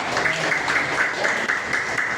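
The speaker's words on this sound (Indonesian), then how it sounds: "Tepuk tangan untuk Eka." Classroom applause for a student after an answer, a steady dense patter of many hands clapping throughout at moderate level.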